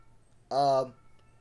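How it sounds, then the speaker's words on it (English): A house cat meows outside a door, one clear, fairly loud, drawn-out call lasting about a third of a second against a quiet indoor background. "Uh-oh, my cat's acting crazy."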